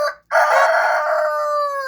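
A rooster crows loudly and close by, one long drawn-out cock-a-doodle-doo following a brief cluck, with no voices.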